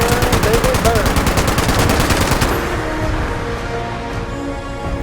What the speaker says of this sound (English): it looks like that flamethrower is doing good